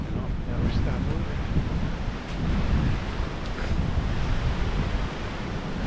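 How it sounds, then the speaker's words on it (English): Wind gusting through snowy woods on an off-trail snowshoe outing, a steady broad roar with buffeting against the microphone that swells and eases over several seconds, close and loud. "the wind's picking up"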